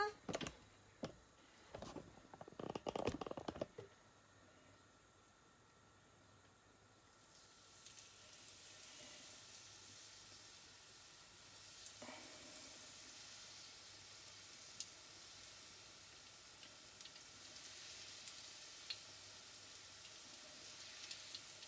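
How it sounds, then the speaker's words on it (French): Low-carb apple fritters with cut apple pieces dropped into hot oil, a steady hiss and crackle of deep frying that rises after a few seconds and continues evenly, close and moderately loud, with brief clatter at the start. "Et allez, ça va partir à la friture."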